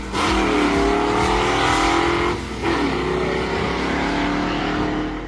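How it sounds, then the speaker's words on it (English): A V8 Hemi muscle car engine, rated 425 horsepower and peaking at 550, roars loud and close with a steady throaty drone, dipping briefly mid-way before surging again and holding strong to the end. "V8 Hemi engine."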